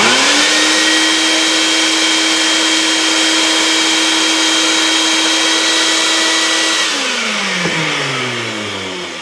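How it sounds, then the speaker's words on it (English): A shop vac runs steadily at close range, a constant droning whine that holds for most of the span, then winds down with falling pitch near the end as it switches off. "I'll kick on the shop vac quick."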